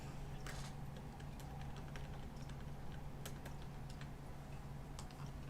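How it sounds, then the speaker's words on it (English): Soft, irregular clicks of typing on a computer keyboard, with quick bursts of keystrokes over a low steady hum, fairly faint and with no talking. "I've been over here typing"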